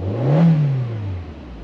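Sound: revving cold engine of salvaged car at Copart

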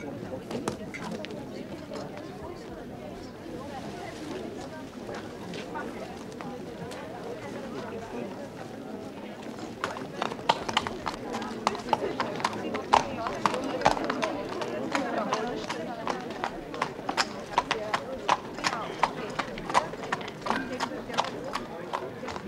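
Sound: horse hooves clip-clopping

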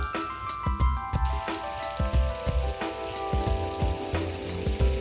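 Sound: shallots and chili frying in chorizo oil

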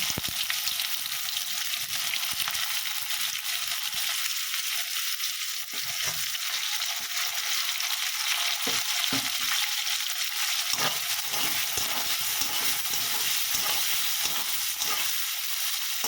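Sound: onions frying in hot oil with cumin and dried chillies

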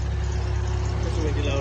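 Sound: car engine running after oil change

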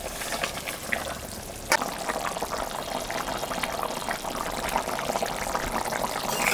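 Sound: boal fish added to boiling curry broth

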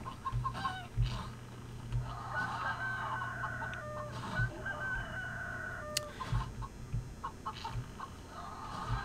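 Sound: chicken squawk attack in the video game CHKN

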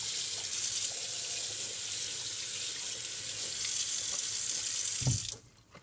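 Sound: rinsing soccer cleats under hot running tap water

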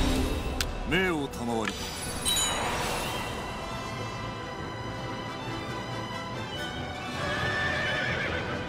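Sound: horse neighing and galloping in Nobunaga's Ambition: Awakening video game

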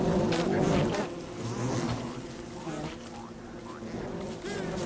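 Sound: bees buzzing in the video game Don't Starve

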